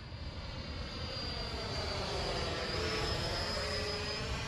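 An X-Fly Alpha RC electric ducted fan jet makes a pass with gear and flaps down, its high-pitched fan whine swelling steadily as it draws nearer.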